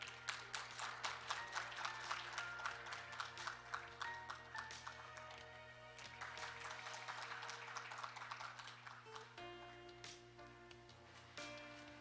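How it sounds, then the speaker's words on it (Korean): A conference audience applauds for a session chair at an international patent court event, faint and distant clapping with sharp separate claps, under a steady background tone and music-like ringing. "큰 박수 부탁드리겠습니다"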